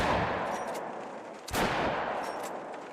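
Miller 1891 10-gauge shotgun fired in theHunter: Call of the Wild, heavy booming blasts with a long rolling tail, one sharp report standing out near the middle over dense, sustained gunfire noise.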